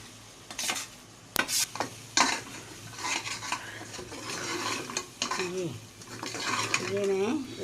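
A sweet flax seed ladoo mixture being stirred and roasted in sugar syrup in a pan, with repeated scraping and clinks of a spoon against the metal and a soft sizzle, while someone talks over it.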